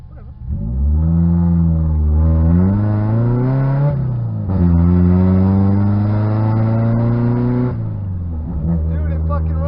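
A Toyota 86 engine hums steadily while being driven in gear, its tone climbing through revs, dipping at a shift and climbing again, loud and close throughout.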